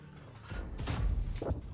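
A tank cannon fires in an online tank battle game, a single heavy boom with a short rumbling tail, followed by a second softer blast, fairly faint overall.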